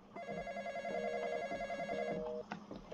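A telephone rings with a steady electronic tone, repeating warbling pulses close by for several seconds before cutting off.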